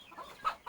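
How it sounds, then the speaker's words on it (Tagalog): Black chickens at a mountain home cluck in two quick bursts, close and clear, in a brief moment without talk. "Puro black ang kanilang manok."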